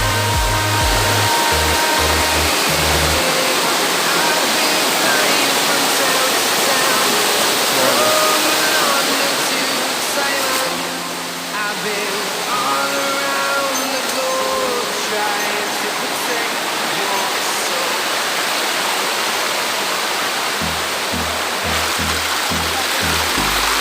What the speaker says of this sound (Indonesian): Ini baru air terjun pertama